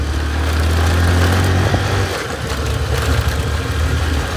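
A motorcycle engine idles with a steady low rumble, then shifts to a rougher, uneven running sound.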